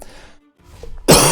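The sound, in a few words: coughing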